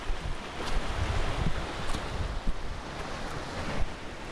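Surf rolling steadily onto Barmston Beach on the Yorkshire coast, with gusty wind buffeting the microphone in a continuous low rumble and no talk.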